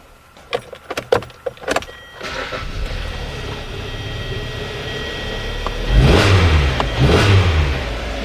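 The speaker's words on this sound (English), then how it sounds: "So now I'm gonna start the engine." A few clicks and a whirring crank, then an engine catches and idles steadily before revving twice, loud and close.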